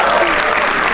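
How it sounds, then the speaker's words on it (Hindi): A comedy-show audience claps for a comedian, a dense burst of applause that fills the whole short moment at steady, fairly loud volume. "इनके लिए तालियां प्लीज"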